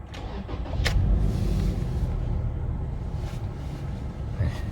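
A Toyota Land Cruiser Prado 150 with overdue engine oil idles steadily up close, its engine a low, even rumble after a sharp click at the start, with a faint whine near the end.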